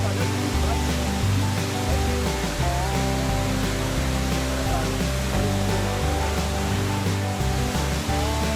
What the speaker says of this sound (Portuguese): Vamos curtir a cachoeira.